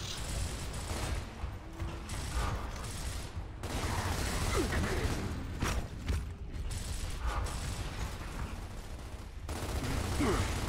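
Gunfire in the video game Gears of War, aimed at shooting out lights, runs as a dense, continuous clatter of shots and mechanical rattles with brief pauses, loud and close, with voices faintly mixed in.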